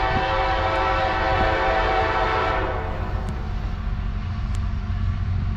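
A CSX freight train, M404 on track one in New Jersey, sounds a loud, sustained horn chord over a heavy rolling rumble. The horn fades after a few seconds while the rumble continues.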